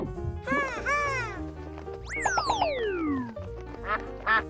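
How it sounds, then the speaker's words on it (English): Cartoon duck quacking in a children's animal video, several bright nasal quacks in two bursts with a rising-falling squawk between, loud and close with a faint music bed underneath. "Duck."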